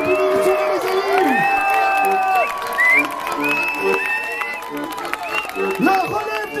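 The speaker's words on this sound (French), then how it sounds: "Applaudissez-les bien fort" A crowd at an outdoor Fête de la musique concert in Brétigny-sur-Orge applauds and cheers beneath a man's loud, echoing voice speaking over the sound system, with brief whoops between his words.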